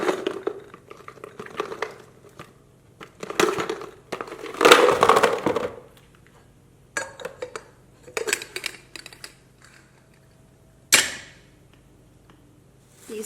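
Small hard root beer barrel candies are poured into a container for a home coffee bar, rattling and clattering in several uneven bursts of tumbling clicks separated by quiet gaps, with a sharp knock near the end.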